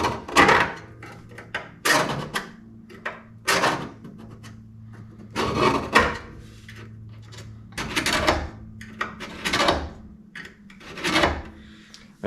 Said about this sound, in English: just scribe a line right onto my donor piece up against my existing cut on the original piece